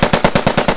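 Rapid automatic gunfire in the Post Scriptum World War II video game, about seven sharp shots in an even burst, loud and close with no talking.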